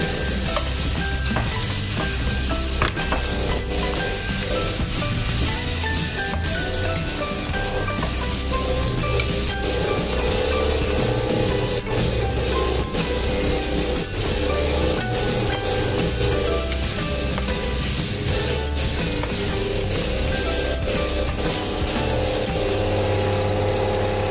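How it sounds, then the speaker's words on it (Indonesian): Sliced chicken gizzards stir-frying in a pan with lime leaves and bay leaves, a loud continuous sizzle with constant scraping and clattering of a spatula against the pan, close up and without speech. "Kemudian masukkan empelanya, empela yang udah dicuci bersih dan diiris ya."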